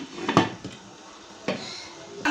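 A metal lid set down over a cooking pot of chicken shashlik sauce, heard as a few short clinks and knocks spread over a couple of seconds, close by, with no talk.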